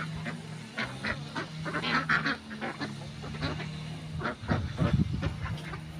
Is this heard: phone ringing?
no